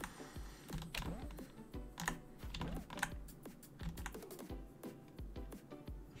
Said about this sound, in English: it kind of cancels out all the keyboard sound effects